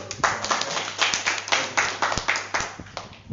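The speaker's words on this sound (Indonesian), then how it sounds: "nah tepuk tangan dulu" An audience at a fertilizer talk claps in a short round, a handful of hands beating in a loose rhythm with sharp, distinct slaps over a low steady hum.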